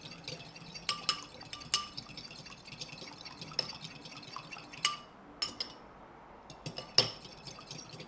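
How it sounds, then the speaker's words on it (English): A whisk clinking against the sides of a bowl while gelatin is beaten hard, in uneven bursts of sharp metallic taps with short pauses, close and fairly quiet. "I'm just gonna whisk it super hard."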